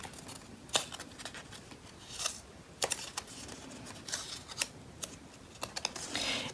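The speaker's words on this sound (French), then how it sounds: "je vais venir plier, marquer les plis" Paper being folded and creased by hand for a pop-up card, a quiet series of crisp snaps and rustles, irregular scraping creases spaced a second or so apart, close up with no talking.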